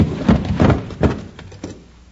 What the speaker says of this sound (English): Help me close this door.